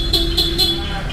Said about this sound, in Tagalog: Busina gumagana.